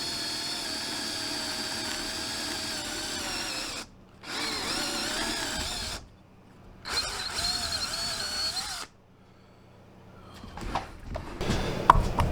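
Drill press boring holes for threaded inserts on a shop-made drill press table, worked from the underside with a brand new bit: a steady, loud motor whine in several long bursts separated by short pauses, ending in rougher, uneven cutting noise.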